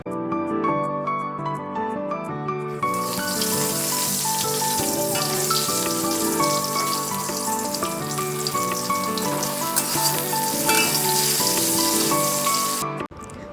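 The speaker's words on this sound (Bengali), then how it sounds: "কড়াইতে তখন কলমি শাক ভাজা বসিয়েই দেওয়া হয়ে গিয়েছে।" Loud, steady frying sizzle fills the scene as water spinach cooks in a hot wok, with music playing throughout.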